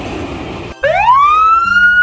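A fire truck siren sounds loud and close, rising in a long wail after a brief word spoken at the start.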